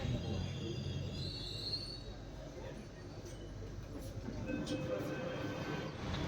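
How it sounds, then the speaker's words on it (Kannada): A metro train rumbles into a station, its wheels screeching faintly and its carriages rolling past in a steady roar, with some talk in the background. "ಸೊ ಟ್ರೈನ್ ಬಂತು ಗಾಯ್ಸ್, ಹತ್ಕೊಂಡು ವಾರ್ಷಳ್ಳಿಗೆ ಹೋಗೋಣ"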